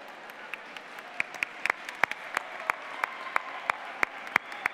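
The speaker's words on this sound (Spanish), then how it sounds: "Entonces, aplausos para el primero." Audience applauding a competitor at a robotics competition, scattered clapping over a crowd murmur, with distinct sharp claps standing out at an irregular rhythm from a few nearby people.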